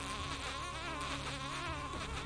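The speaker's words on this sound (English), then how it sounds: "From the distance, he could hear a buzzing sound coming towards him." A swarm of bees from a broken beehive buzzes loud and close, a thick, wavering drone that holds steady throughout, presented as a sound effect.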